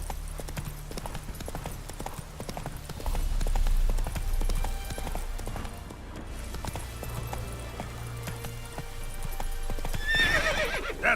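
Hooves of Roach, the horse in The Witcher 3 game, clip-clop in a steady trotting rhythm, with a loud neigh near the end; the footfalls stay close and clear throughout.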